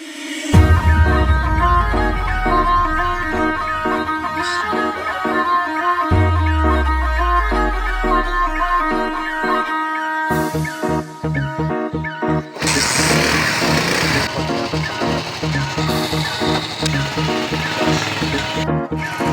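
A motorcycle engine starts and runs for a morning ride to school, a close mechanical chugging with shifting revs and a few sharp bursts, with brief talk.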